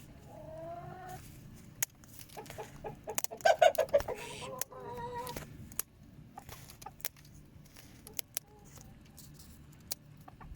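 Hens cluck and squawk in short bursts nearby in a farm pen over quiet background rustling, with a faint call from an excited cockerel among them.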